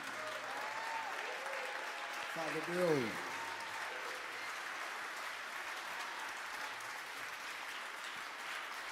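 Steady, fairly distant audience applause fills a Christmas jazz concert at Cranbrook, with a short spoken interjection partway through as the clapping carries on evenly to the end.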